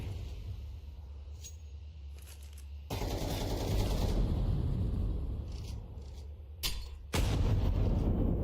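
Gunshots in a Counter-Strike style competitive match: sharp loud reports and a sustained burst of fire rise above a quieter game background.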